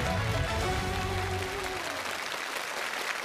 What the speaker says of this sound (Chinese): 掌声欢迎王佩瑜老师。